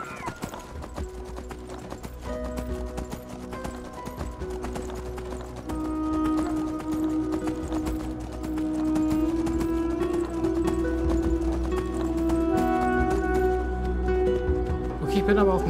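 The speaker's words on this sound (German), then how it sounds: "Ich bin aber auch ein bisschen froh, dass wir jetzt mit Eselchen unterwegs sind." Donkey hooves clip-clop at a steady walking pace in the Enderal video game, a continuous even rhythm that runs the whole way under sustained game music.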